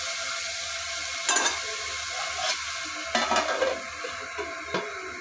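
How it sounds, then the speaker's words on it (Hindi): Raw banana sabji cooks covered over a medium flame with a low, steady hiss and sizzle, punctuated by a few short clinks and stirring scrapes. "अभी गैस को मीडियम फ्लेम पे करके इसको मैं ढक के 2 से 3 मिनट के लिए पका लूंगी"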